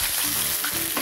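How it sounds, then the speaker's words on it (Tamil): Fresh curry leaves dropped into hot coconut oil with masala for a Kerala-style fish pollichathu tempering, giving a steady close sizzle and crackle, short and unbroken. "இப்போ வந்து ஃப்ரெஷ்ஷான கருவேப்பிலை எடுத்து போட்டணும்"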